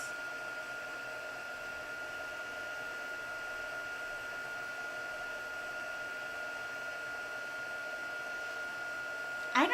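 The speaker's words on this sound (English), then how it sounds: "I don't use heat embossing near enough." Heat gun melting embossing powder on a chevron and gears textured craft element, a steady, even blowing hiss with a faint whine that holds for the whole stretch before cutting off with a brief clatter at the very end.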